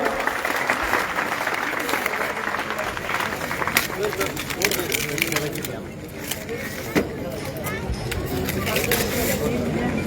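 Audience at a Marathi book launch claps throughout, a dense steady patter of many hands with crowd murmur mixed in, briefly dipping midway before swelling again.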